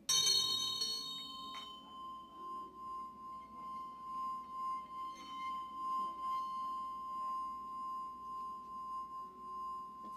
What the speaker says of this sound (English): Generally the bell is used at the beginning and at the end of a meditation.